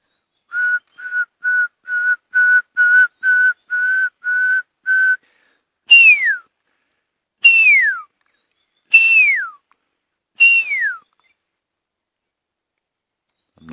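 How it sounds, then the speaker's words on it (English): A pearl-spotted owl calls at sunrise on safari: a run of about ten short, even whistled notes, followed by four longer, louder descending whistles spaced well apart, clear against a quiet background with no talk. "there's a pearl-spotted owl calling here"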